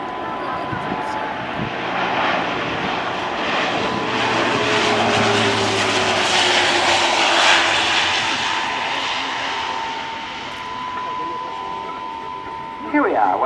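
Twin turboprop engines of a C-27J Spartan military transport roar loudly and steadily at an air show, swelling and fading slightly as the aircraft passes near, with a faint voice underneath.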